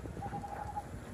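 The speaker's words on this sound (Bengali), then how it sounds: "পাখির ডাক আছে সাথে" Birds call in a rural village during rain, one clear repeated chirping note running for about half a second over steady rainfall and low background rumble, with no talking.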